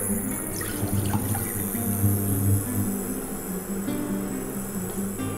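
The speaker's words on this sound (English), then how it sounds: "Adding our milk." Milk pours into a pot on a stove, a steady liquid splash and gurgle close by with no voices.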